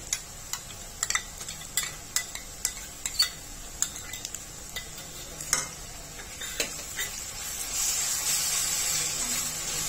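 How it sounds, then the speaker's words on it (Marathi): Green herb paste, onion and tomato sautéed in oil for a dhaba-style chicken lapeta, with a spatula tapping and scraping the pan in a steady rhythm and a soft sizzle that swells near the end. "हिरवं वाटण सुद्धा चांगलं परतून घ्यायचंय"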